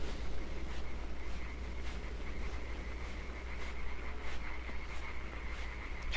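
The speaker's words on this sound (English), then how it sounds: "Head to the frogs, Jimmy" Frogs croaking in the dark forest of the video game Limbo, a faint repeating chorus of soft croaks over a steady insect and ambient hum, with no talk.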